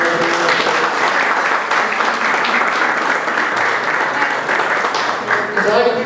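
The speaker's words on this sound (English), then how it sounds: "can we give a round of applause to Mr." An audience at a parent information session applauds steadily, a dense, loud wash of many hands clapping that holds evenly for several seconds with a few murmuring voices mixed underneath.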